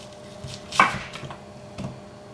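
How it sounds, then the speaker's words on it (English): A knife slicing through an onion on a cutting board, a few quick, separate cuts with one sharper, louder stroke, close by, no talking. "We need one onion sliced."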